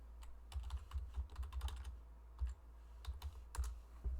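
Quick bursts of keystrokes on a computer keyboard, close and fairly quiet, in irregular clusters with short pauses between them.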